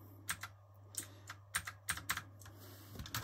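Keys clatter on an external USB keyboard in irregular bursts of quick clicks, close and fairly quiet, with a low steady hum underneath.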